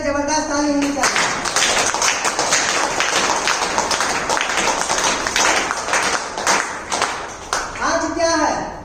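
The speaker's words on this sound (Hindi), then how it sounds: "तो एक बार संजय सदा के लिए जबरदस्त ताली होनी चाहिए।" A crowd at a DXN training event breaks into sustained, dense applause for several seconds, with voices briefly heard at the start and end.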